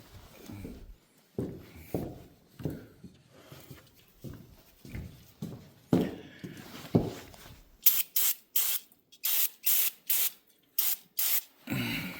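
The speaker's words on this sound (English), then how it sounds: "Let's spray something on there, see if maybe it might help." A series of short, sharp bursts of penetrating spray hiss in quick succession onto a rusted part of a 1976 Chevrolet rear axle, after some rubbing and shuffling handling noises.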